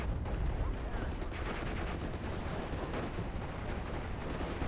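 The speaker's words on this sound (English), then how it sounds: "Let's bring out a medium machine gun, set up suppressive fire" Medium machine gun laying down suppressive fire in the WWII strategy game Steel Division: Normandy 44, dense sustained gunfire rattling on with distant blasts mixed into a loud, unbroken battle din.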